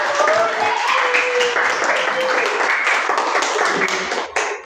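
A classroom group claps together in a dense, steady burst of applause lasting a few seconds, loud and close, fading at the end.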